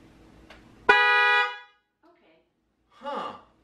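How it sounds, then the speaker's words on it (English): A single loud Tesla car horn blast, triggered by a voice command, sounds for about half a second, close by, followed by quiet and then a brief voice. "tell my car to honk the horn"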